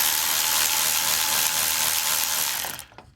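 A 5/16 or 8mm hose clamp on the upper radiator hose of a 1996 Ford F-250 with a 7.3L Powerstroke diesel, loosened by a ratcheting tool: a loud, close, steady mechanical whirring that stops abruptly near the end.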